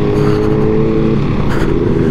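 A motorcycle ridden at quarter throttle hard enough to lift the front wheel, with its stock exhaust giving a close, steady engine drone that holds evenly throughout.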